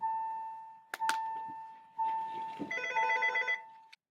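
An office telephone rings in a quiet room, a faint electronic ringtone of sustained tones and a short melodic warble, with a few soft clicks and knocks between.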